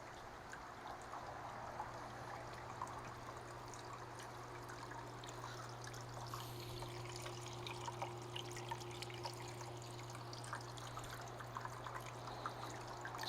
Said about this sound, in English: I want to show you how the fountain looks all hooked up with the lights on and the water running.